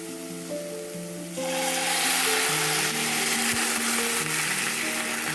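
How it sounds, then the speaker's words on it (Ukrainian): A splash of water hits fish frying in a pan, and a loud sizzle bursts out at once and carries on steadily. A faint tonal background is heard throughout. "Зараз я сюди додам трошки водички"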